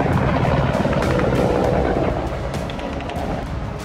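A loud, continuous helicopter with rotor thumps and sharp crackling bursts over it, fading slightly toward the end; no voices.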